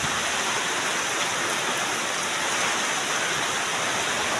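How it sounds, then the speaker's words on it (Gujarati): Heavy rain pours steadily, a dense, continuous hiss that fills the whole clip without pause. "જોરદાર વરસાદ"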